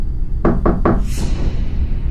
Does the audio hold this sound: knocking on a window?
yes